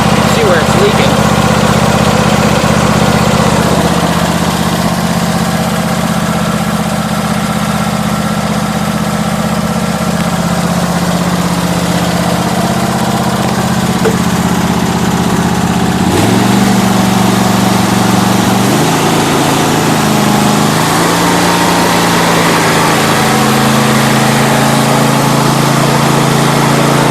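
A John Deere LA150 lawn tractor engine idling steadily after a cold start, loud and close, with a low droning hum that shifts pitch partway through.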